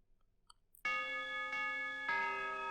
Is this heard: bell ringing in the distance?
yes